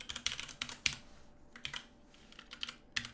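Quiet computer keyboard typing while coding C# in Unity3D, with bursts of close key clicks, a short pause midway, then a few more keystrokes.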